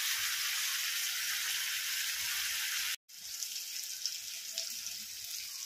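Chopped tomatoes with turmeric sautéing in a pan, a steady bright sizzle that cuts out briefly midway and then resumes a little softer, with no talking.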